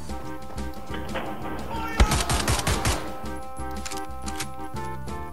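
Rapid gunfire rattles out in the video game Destiny, a loud two-second string of close shots over steady game music, then the music carries on alone.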